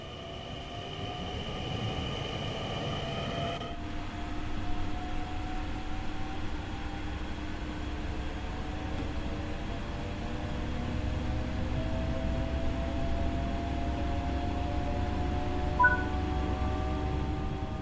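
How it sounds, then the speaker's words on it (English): A regional Sprinter train in Train Sim World 6 rumbles steadily along at speed on the Zwolle–Groningen line, its motor whine rising in pitch over a constant wash of rail noise. "it's a modestly fast regional sprinter train."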